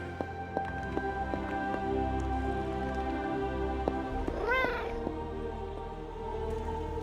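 A cat in the game Marvel's Midnight Suns gives a single short, rising meow near the middle, heard over a steady low ambient hum and scattered soft clicks.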